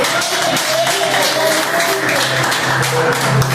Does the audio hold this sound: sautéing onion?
no